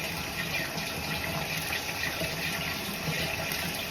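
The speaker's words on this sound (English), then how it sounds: "Put some water on that." Water runs steadily onto an 18-inch curly wig bought from Amazon, a continuous close splashing hiss with no talking.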